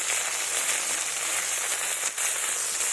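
Crushed garlic goes into a hot pan of frying chopped onion and bay leaves for a Bengali fish and potato curry. A loud, steady sizzling hiss runs throughout, with a brief dip just past the two-second mark.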